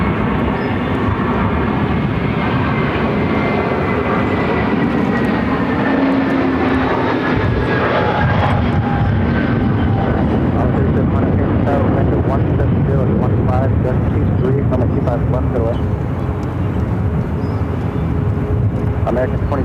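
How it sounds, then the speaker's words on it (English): An American Airlines Airbus A321-200 arriving at Phoenix from Dallas, its engines roaring loud and steady with a shifting whine throughout, while radio-style voices talk over it. "This is American Airlines 336 coming in from Dallas on an A321-200."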